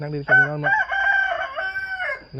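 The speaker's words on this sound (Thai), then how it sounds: "ในฟังเสียงไก่ขันนี่ก็โอ้ถือว่าสุดยอดละ" A rooster crows once, close and loud, in a single drawn-out crow of about two seconds at a friend's home in Laos on a day off; a voice speaks briefly at the end.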